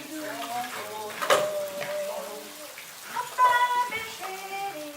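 A waterfall's continuous rushing water with light splashing, a steady moderate wash heard under a person talking over it.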